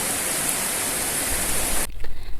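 Heavy rain pouring down hard enough to blow in through an open window, a dense steady roar that cuts off abruptly near the end, leaving faint low rumbling.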